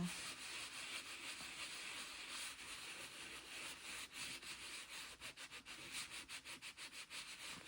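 A card being rubbed by hand for reverse embossing, a quiet continuous scrubbing that turns into a quicker run of short rhythmic strokes toward the end.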